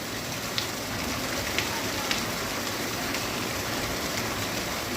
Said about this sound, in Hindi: ये थोड़ा ठंडी है चलिए तिखी बारिश है